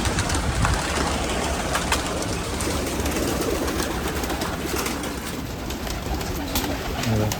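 Pigeons at the Nashik pigeon festival coo and call steadily over a dense, constant outdoor bustle, with flapping and other birds blending into the busy background throughout.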